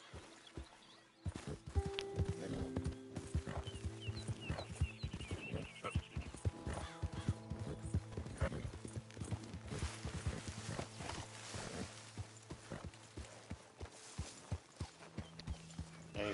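Horse hooves clip-clop steadily in a game, with an occasional whinny and some talking over the top.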